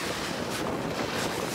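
Cold wind blowing at a lake, a steady blustery rush with gusty swells buffeting the microphone, loud and continuous with no voices.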